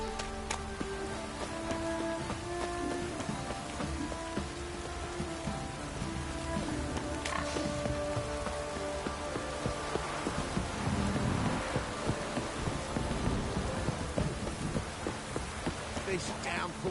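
Heavy downpour of rain in a video game, a steady broadband hiss of falling water throughout, with game music and effects layered over it and faint talk mixed in.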